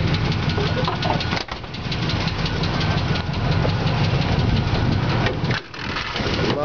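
A high-mileage 1977 Oldsmobile Cutlass Supreme Brougham engine idling, a loud, close, steady low rumble with a slight knock, dipping briefly twice.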